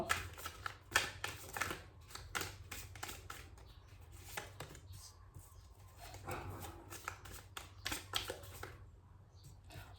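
Tarot cards are shuffled and riffled in a run of quick, crisp, close-up flicks and slaps that come in uneven bursts over a low background hum, with no talking.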